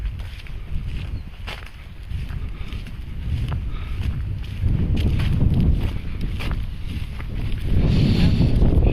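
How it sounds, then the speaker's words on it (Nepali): Gusty wind buffets the microphone during a walk through a village in rural Nepal, a low rumbling whoosh that swells louder in surges toward the end. "हावा बतास सिरिरी बतास चल्यो"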